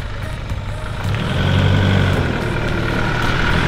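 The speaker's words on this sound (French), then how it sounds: "on va peut-être attendre que Régis y parte avec son tracteur là." A tractor's heavy engine rumbles steadily as it drives away nearby, its low drone swelling slightly, with no voices.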